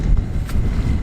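Loud, steady wind of about 30 miles an hour buffeting the microphone with a low rumble, mixed with faint water noise and a boat's hum.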